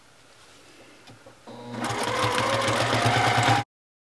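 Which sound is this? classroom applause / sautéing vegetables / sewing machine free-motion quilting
sewing machine free-motion quilting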